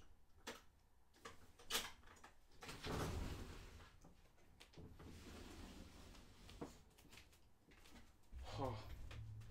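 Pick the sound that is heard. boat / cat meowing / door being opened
door being opened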